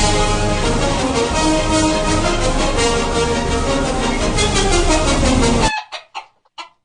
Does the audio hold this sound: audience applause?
no